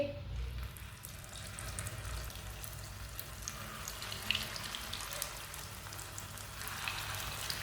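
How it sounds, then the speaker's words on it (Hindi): Kebabs frying in hot oil, a steady loud sizzle and crackle running throughout with no talk over it. "ऑयल हमारा अच्छी तरह गर्म हो चुका है। अब इसमें कबाब डाल लेंगे।"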